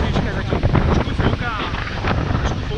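Steady wind buffets the microphone with a low rumble and gusty noise throughout, with faint voices mixed in, during a hike toward Sněžka mountain.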